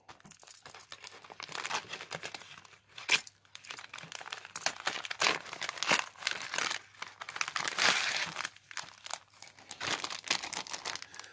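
Close-up crinkling, tearing and rustling as a knife slices open a parcel's plastic packaging holding a Type-C charging cable, with irregular bursts of crunchy plastic noise continuing for several seconds.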